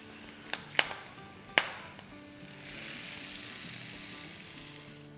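A few sharp metallic clinks and taps, then a soft sizzle of tadka spices with Kashmiri chili powder frying in hot oil for dal, fairly quiet and close.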